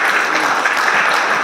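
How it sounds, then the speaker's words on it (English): An audience at an evening panel event gives a steady round of applause for a guest, a dense wash of clapping throughout. "also another round of applause for Belle"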